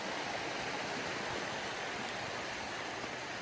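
Creek water rushing steadily along a trail past a log jam, a continuous broadband hiss and burble, close and even, with no voices.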